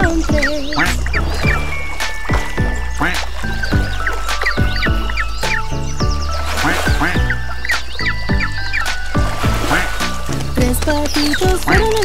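A cheerful Spanish-language children's song about ducks, with a sung voice imitating a duck's quacks over bouncy instrumental music for the whole stretch.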